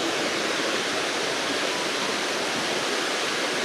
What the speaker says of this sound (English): that's the waterfall and it still goes down.